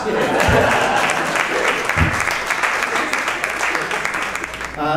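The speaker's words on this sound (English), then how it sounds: "let's hear a 12-second applause" Party audience breaks into sustained applause, dense clapping throughout at moderate loudness with a few louder individual claps and some crowd noise mixed in.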